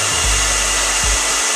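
A handheld hair dryer blows steadily and loudly at close range, a continuous dense rushing whoosh with slight low flutters, no voices.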